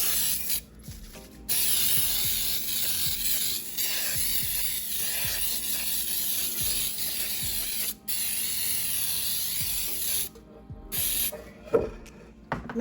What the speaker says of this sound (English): I'm going to start by spraying with Baker's Joy.